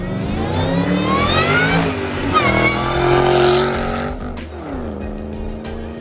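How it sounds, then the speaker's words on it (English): A supercharged Mustang 427R with a K&N cold air intake revs hard and close, its engine note climbing and falling through several rises, with a whining supercharger over the roar. "Open it up so you can hear the supercharger."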